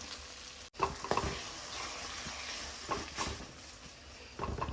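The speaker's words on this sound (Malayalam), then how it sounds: "എണ്ണ നല്ലപോലെ ചൂടായി വന്നിട്ടുണ്ട്. അപ്പോൾ നമ്മൾ ഇതിലേക്ക് എല്ലാവരും ഇട്ട് കൊടുത്തിട്ടുണ്ട്." Beaten egg mixture for egg thoran poured into hot oil in a pan, sizzling and frying steadily with scraping and stirring noises, no voices.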